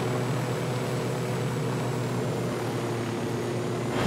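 A helicopter in the Ghost Recon Wildlands video game, a loud, steady engine and rotor drone with a constant hum and airy roar, heard alone throughout.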